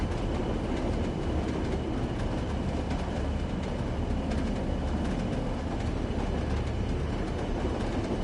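Class 40 diesel locomotive hauling a heavy freight train in Train Sim World 2, a steady loud rumble with rolling wheel noise and faint rhythmic clatter throughout, no voices.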